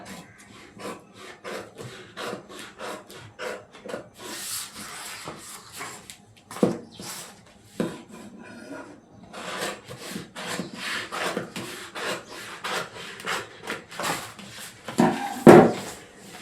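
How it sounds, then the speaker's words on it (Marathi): Scissors cut through blouse pattern paper up close, a run of irregular rasping crunches and snips with short pauses and a louder cut near the end. "प्रॉपर लाईन वरनं कापून घ्यायचा"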